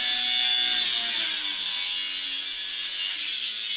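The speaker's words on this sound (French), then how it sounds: "je vais faire du bruit juste pour découper l'éclisse" A saw cuts through a wooden rail (lisse) for a partition wall, producing a steady, loud, close rasping drone that runs for the whole stretch without pause.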